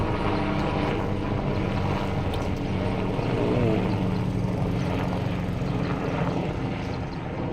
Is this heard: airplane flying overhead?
yes